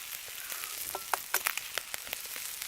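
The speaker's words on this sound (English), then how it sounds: "Just that oil. And we'll just sizzle that up." Eggs frying in oil in a pan during a snowy outdoor bushcraft breakfast, a soft steady sizzle dotted with sharp pops and crackles.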